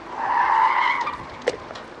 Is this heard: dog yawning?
no